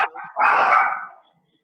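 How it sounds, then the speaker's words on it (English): Dogs in the back of a home let out a short yip followed by a longer, loud bark that trails off into silence, fairly close. "I'm so sorry about my dogs in the back."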